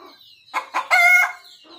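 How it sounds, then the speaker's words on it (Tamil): A rooster crows once, loud and close, after a couple of short hen clucks, at a farmyard where a hen is about to lay eggs; no one talks. "எவ்வளோ சத்தம் போட்டுட்டு இருக்கு பாருங்க."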